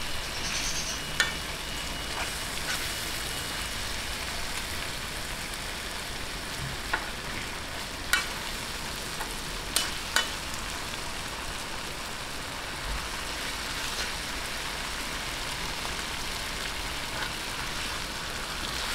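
Milkfish (bangus) fries in a pan with softened tomatoes, giving a steady close hiss of sizzling oil for the whole stretch, dotted with a few small sharp pops and clicks.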